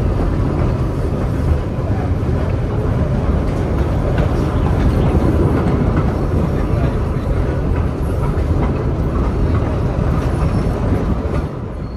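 The Bhakra Railway train rolls from Nangal toward Bhakra Dam with a continuous heavy rumble and low clatter, loud and close throughout.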